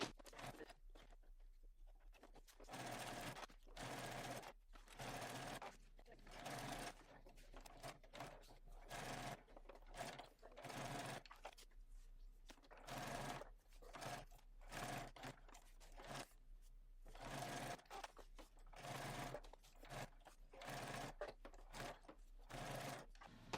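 A sewing machine top stitches slip pocket pieces for an Andante bag, running in many short, rhythmic bursts with brief pauses, faint and close throughout.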